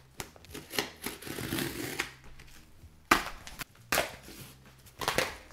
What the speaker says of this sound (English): can't get my scissors in it anywhere, so I'm gonna just try and cut it open as much as possible.